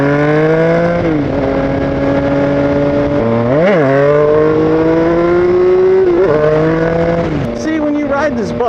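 A Triumph Speed Triple motorcycle engine revs repeatedly, its loud close whine climbing and dipping through several blips before hammering against the rev limiter at around 11,000 RPM.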